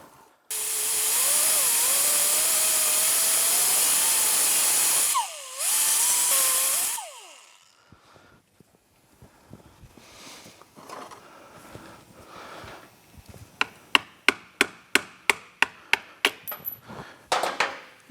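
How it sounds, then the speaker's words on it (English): A grinding tool cuts through the rivets on a Honda 400EX ATV chain link, a loud continuous whine with shifting pitch for about seven seconds, briefly dipping midway, then stopping and giving way to scattered clinks and a run of sharp taps. "grab your grinding tool"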